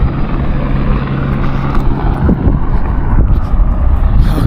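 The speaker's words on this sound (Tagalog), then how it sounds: "Bakit may helicopter doon?" A helicopter passing overhead outdoors, its loud, steady rotor thump and engine drone filling the background continuously, mixed with nearby street noise and no clear speech.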